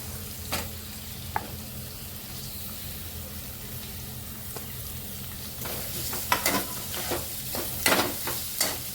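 Chopped onion fries in oil over a high gas flame for egg fried rice, a steady hissing sizzle broken by utensil scrapes and clacks that grow busier in the last few seconds.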